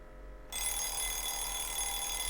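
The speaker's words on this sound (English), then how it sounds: "I turned off the ringing alarm clock and got up from bed." After a half-second of quiet, a dense electronic ringing starts abruptly and continues steadily, a bright buzzing bell tone that does not let up.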